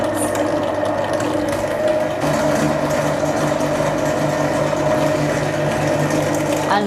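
An electric mixer on a medium-high setting whisks royal icing toward stiff peaks, a steady mechanical whirring and gear rattle running continuously and fairly loud throughout, with no pauses.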